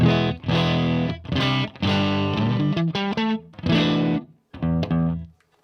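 Loud, gritty overdriven electric guitar riffs, chords and short lines in bursts with brief pauses, thick with distortion, played through a BluGuitar Amp 1 amp pedal set toward a Plexi-style sound.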